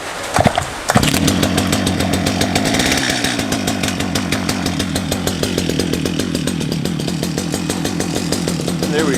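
STIHL MS 250 chainsaw, recently serviced after a no-start fault, pulled into life after a couple of brief starter tugs, then running loud and close at a steady rough idle with a fast rhythmic pulse.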